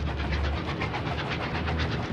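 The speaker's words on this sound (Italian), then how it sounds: "un treno a vapore risale una collina," A steam train climbs a hill at night, giving a steady, dense rumbling roar with a faint rhythmic chuffing pulse throughout, close and continuous.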